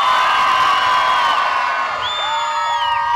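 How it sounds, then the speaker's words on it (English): A crowd cheers as loud as it can at the Beaulieu Supercar Weekend, a sustained roar of voices with whoops and shrill shouts rising above the mass, loud and close throughout. "after 3, I want you to cheer as loud as you possibly can"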